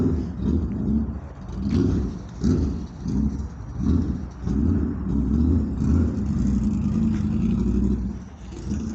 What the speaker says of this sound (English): I hear something loud. I gotta go look. Great. Race car.